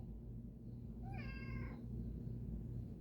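A pet cat gives a single clear meow, rising then falling, heard up close against a steady low background hum, with no talking.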